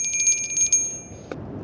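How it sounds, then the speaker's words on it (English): A small bell on a catfishing rod jingles in quick repeated shakes, bright and close, then fades out, followed by a single soft knock against a quiet background. "I think that's a cat fishing bell."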